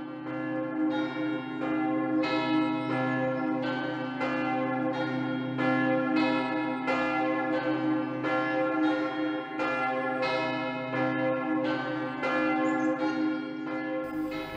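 Church bells tolling across a calm open plain, a steady stream of ringing strikes over a sustained humming drone, continuous and fairly loud for the whole stretch.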